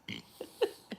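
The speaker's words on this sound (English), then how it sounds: "He burps." A short, low guttural burp rises out of near silence, followed by a couple of smaller throaty bursts, close and fairly soft.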